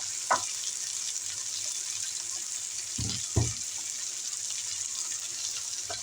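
Ground pork sizzling in a hot pan for a bottle gourd and tofu dish, a steady hiss with a few clattering knocks of a utensil against the pan.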